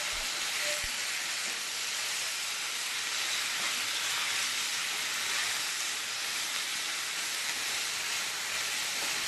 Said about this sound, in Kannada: ಬೆಳ್ಳುಳ್ಳಿ ಇಷ್ಟನ್ನು ಫ್ರೈ ಮಾಡ್ಕೊಳ್ತಾ ಇದ್ದೀನಿ